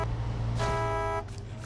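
A truck horn sounds in the snowy off-road driving game SnowRunner as a single steady, loud, tonal blast of about a second, heard over a low engine rumble.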